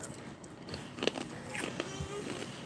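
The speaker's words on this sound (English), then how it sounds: "I'm munching on my Gardettles" Someone munching Gardetto's snack mix close by, with a few soft crunchy bites scattered over a low background hiss.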